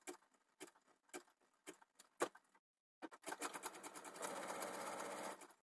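A sewing machine stitches a dress, starting with a few slow separate needle strokes, a brief pause, then a steady fast whirring run of stitching, close and fairly quiet.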